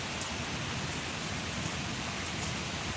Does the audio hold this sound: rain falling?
yes